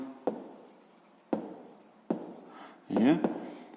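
Positive numbers are handwritten for a sixth-grade maths exercise, a few close, scratchy pen strokes with sharp taps at the start of each, and a brief louder scrawl near the end.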